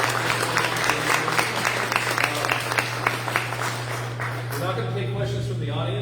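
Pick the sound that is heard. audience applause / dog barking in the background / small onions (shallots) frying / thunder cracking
audience applause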